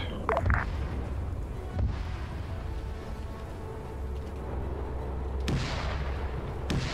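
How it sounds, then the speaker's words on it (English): Distant anti-tank gun and defensive tank cannon fire in an Arma 3 World War 2 Soviet armor battle, heard as a few separate booms over a rumbling battlefield background. "That was both the AT gun and the other defensive tank firing."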